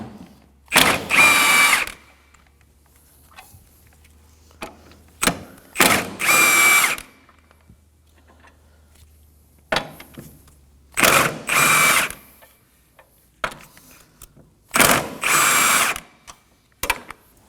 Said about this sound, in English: Go ahead and remove these four 14 millimeter bolts. Using a 14 millimeter socket,